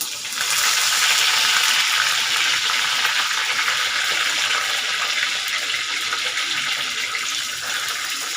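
Green chillies, garlic and curry leaves sizzle in a hot pan while a fish gravy is being made, giving a steady, dense crackling hiss that runs loud and unbroken throughout.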